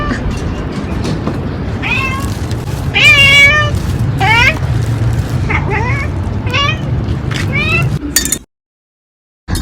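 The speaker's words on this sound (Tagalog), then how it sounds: "Ang mga cute ng mga pusa" A mother cat and her kittens meow repeatedly, several clear, rising calls overlapping close by over a low background rumble and light clatter, before the sound cuts to silence near the end.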